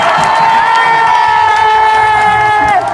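A large concert crowd cheers and whoops loudly and continuously for the technicians, a dense wash of voices with a steady high-pitched whistle or tone running through it.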